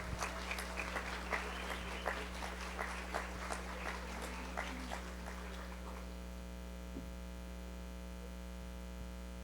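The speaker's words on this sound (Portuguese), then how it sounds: "Então, uma salva de palmas para o Samuel." Audience applause at an informal innovation pitch-day meetup, a burst of clapping that fades out after about six seconds over a steady electrical hum.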